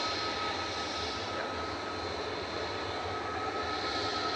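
Jet airliner departing runway 23 left at Manchester Airport bound for Girona, a continuous, loud, even engine roar with a faint high whine running through it, heard alone.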